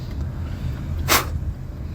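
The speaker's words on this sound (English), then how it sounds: "let me spit this out." A single short, breathy spit from a person, a brief hissing burst standing alone against a low, steady background hum.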